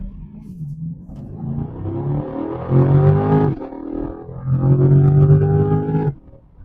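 A 2025 Chevy Corvette Stingray 1LT's naturally aspirated V8 revs hard toward high rpm in two rising pulls, the loud engine note climbing with a brief dip between surges before cutting off; no one speaks.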